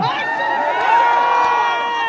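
Crowd at a stage event in Murshidabad cheering and whooping loudly, a dense sustained roar of voices with shouts rising over it throughout.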